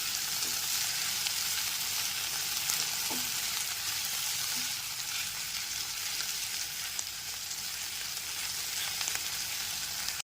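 Tomato paste with salt sizzles softly in a pan for about ten seconds, a continuous faint frying hiss with a few light spoon taps from stirring.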